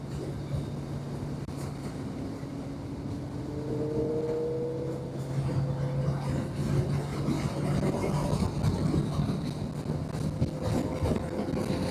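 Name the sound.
passing train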